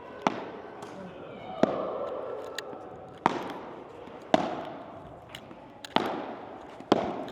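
Padel balls struck back and forth in a relaxed warm-up rally, giving sharp, evenly spaced pops about once a second, with light chatter and court noise between the hits.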